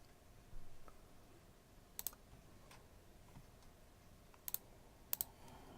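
Computer mouse clicks while working in the Unity editor: a few sharp, faint clicks, some in quick pairs, spaced over several seconds against a quiet room hiss.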